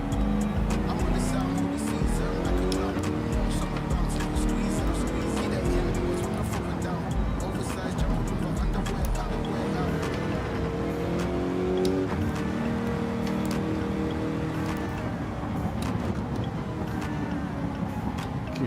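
A heavy car engine races steadily in Gran Turismo 7, a continuous droning roar with shifting revs throughout, with someone talking over it.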